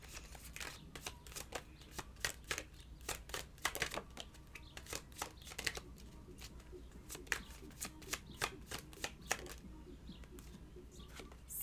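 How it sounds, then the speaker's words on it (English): Tarot cards are shuffled by hand in a quiet room, a steady run of soft riffling and snapping flicks repeating close up without any talking. "I'm going to pull some cards,"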